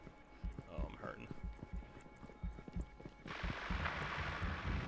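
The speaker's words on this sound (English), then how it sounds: "At this point, I hear footsteps in the building, so I'm anticipating enemies are nearby." Footsteps sound inside a building in the game Hyper Scape, a steady run of close thudding steps beneath a voice, followed by a louder rush of wash toward the end.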